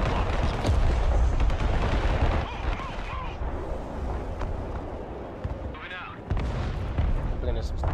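Rocket artillery from Prism launchers slams down in a Broken Arrow match, a dense roar of blasts and rumbling impacts loud throughout, with a player talking over the barrage.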